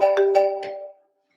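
A mobile phone ringing in a room: a short melodic ringtone of three or four bright tones that fades out after about a second, alone and fairly clear.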